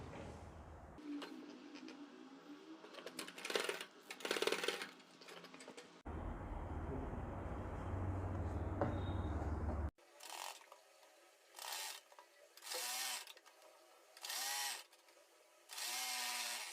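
A sewing machine stitches the edge of a kurti fabric in faint, short whirring runs that start and stop in a rhythmic series of bursts, quiet throughout.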